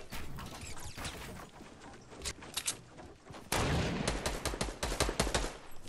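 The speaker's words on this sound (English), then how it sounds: "this one guy keeps shooting at me" Enemy gunfire in Fortnite Battle Royale, with a burst rifle in play: rapid bursts of shots crack repeatedly throughout, growing louder and denser in the second half, with no talk.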